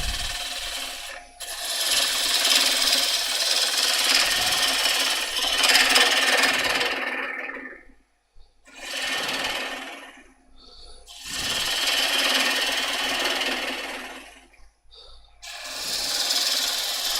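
A wood lathe turning an unknown species of wood while a turning tool cuts shavings: loud, sustained rasping and scraping passes of several seconds each, separated by brief pauses, over a low motor hum.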